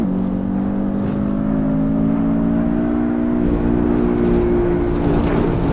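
Porsche Cayman S in Assetto Corsa, its mid-mounted engine droning loud and steady at high revs, pitch climbing slowly, then a gear change and a renewed, slightly lower hum.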